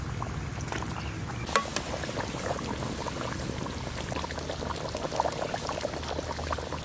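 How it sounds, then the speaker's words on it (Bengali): Fish curry gravy bubbles and boils with fried potatoes in a village cooking pot, a steady, faint churning burble with soft popping, continuous and undisturbed by voices. "সুন্দরভাবে ফুটতেছে আলুর সঙ্গে"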